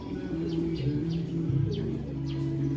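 Two pet birds give faint, quick chirps in repeated short bursts over a low, steady hum, with soft cooing tones running underneath.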